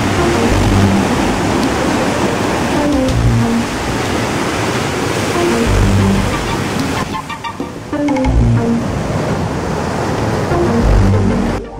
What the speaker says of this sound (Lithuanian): Po truputį vandenynas pradeda kelti bangas.